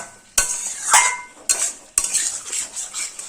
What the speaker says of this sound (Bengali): ফুলকপিটাও এই আলু আর মশলার সঙ্গে দুই মিনিট একটু কষিয়ে নেব